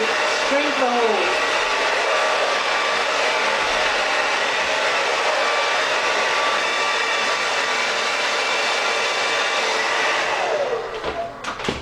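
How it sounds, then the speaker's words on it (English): A hair dryer blows hot air steadily over a plastic highlighting cap, a loud continuous whoosh that runs for about ten seconds and then cuts off abruptly near the end. "blow dry to shrink the holes around the hair"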